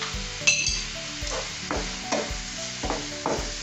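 Fried potatoes are stirred into garlic masala in a pan, with a spoon scraping in repeated strokes over a steady sizzle and occasional clinks against the metal.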